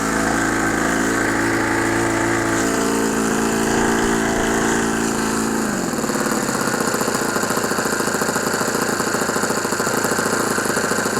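Engine idling right after starting, running a little rich; a loud, steady, rapid mechanical chugging that settles into a smoother, even idle partway through.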